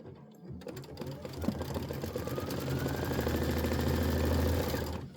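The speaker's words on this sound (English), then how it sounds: "hit your stop button, or else it's going to keep stitching" An embroidery machine stitches a tack-down with a fast, even mechanical chatter that begins after a brief pause and runs steadily, growing slightly louder, before stopping at the end.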